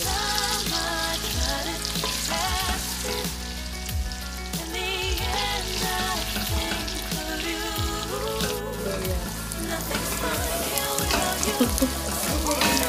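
Garlic fries in melted butter in a pan, a steady dense sizzle with crackling pops and occasional stirring scrapes, close and continuous without speech.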